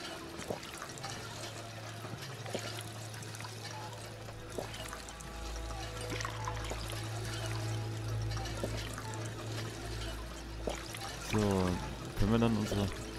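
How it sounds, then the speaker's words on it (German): Water runs and pours from a water pump in Fallout 4, a steady flow with gurgling and trickling that thickens toward the end, heard under game ambience and spoken commentary. "Oh, Wasserpumpe."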